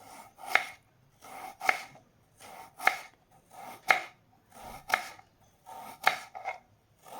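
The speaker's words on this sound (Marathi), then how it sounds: "स्वतः होईल तेवढे ना बारीक कट करून घ्यायचे" Vegetables for crispy chilli and potato bhaji are chopped finely with a knife on a board: seven crisp, evenly spaced strikes about a second apart, close and distinct against a quiet background.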